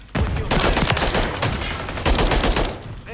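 Dense, rapid gunfire rattles almost nonstop in a Call of Duty multiplayer match, with loud overlapping bursts and sharp shots filling the scene.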